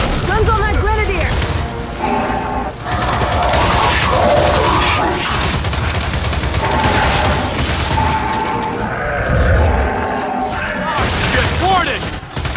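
During a Gears 5 firefight, a grenade blasts amid loud, continuous gunfire and battle clatter. Characters shout over the din.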